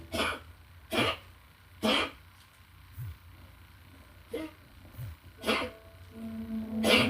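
A dog gives a series of short, harsh coughs, spaced about a second apart, close by in an otherwise quiet room.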